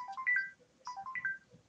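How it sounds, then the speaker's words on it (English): A phone ringtone plays a short melodic chime pattern twice in a row, moderately faint and alone over a quiet background. "Sorry for the phone noise"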